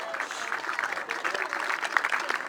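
Spectators at a 5K race cheer and clap for a runner passing by, a steady patter of applause with scattered shouts, moderately distant and continuous for a few seconds.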